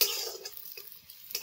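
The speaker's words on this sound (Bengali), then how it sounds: "পেঁয়াজটা অনেকটাই ভাজা হয়ে গেছে" Onion frying in a kadai with a broken fried chili, a soft, faint sizzle broken by brief stirring scrapes.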